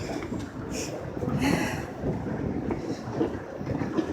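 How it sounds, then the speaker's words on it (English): A Los Angeles Metro Rail train carries riders with a steady rolling rumble and wind-like rush, plus faint rail clatter throughout. "riding Metro Rail in LA for the first time."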